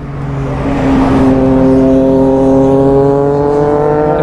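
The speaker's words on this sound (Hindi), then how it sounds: "कितना शोर करते हैं यार ये, इसलिए मैं सुपर बाइक नहीं लेता" Loud, sustained superbike engine roar with several tonal whines rising steadily in pitch, revving motorbikes close by, continuous for a few seconds without speech.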